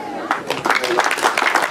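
Applause and clapping from an audience at a community thanksgiving celebration in Mocolikia marking the expansion of electric power, a dense, steady patter of many hands lasting throughout, with voices mixed in.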